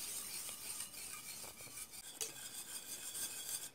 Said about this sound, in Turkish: Sürekli bu şekilde karıştırarak pişiriyorum.